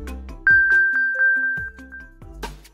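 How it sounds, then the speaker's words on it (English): An Apple device sounds its Play Sound locating chime, a run of quick, bright, ringing tones repeated in a rising pattern. The chime is clear and close, with no voices over it. "If you've lost your device and think it's nearby, tap Play Sound, and you'll hear this chime."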